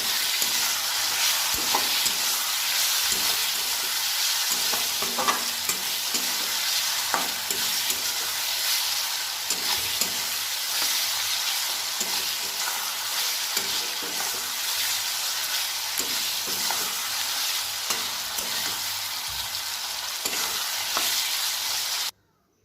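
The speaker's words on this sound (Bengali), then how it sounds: "এবার এটা ভালো করে নাড়িয়ে চাড়িয়ে নামিয়ে নেব।" Pointed gourd ghonto with ghee and garam masala is stirred in a hot pan, a continuous bright sizzle with frequent scraping and tapping of the spoon, close and steady until it cuts off at the end.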